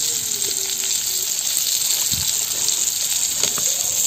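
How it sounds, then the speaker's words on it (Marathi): Fish slices frying on a griddle pan over a wood fire, a steady bright sizzle and hiss with a brief low thump partway, close and continuous without speech. "तव्यावर मासे टाकले की असे तर हलवायचे"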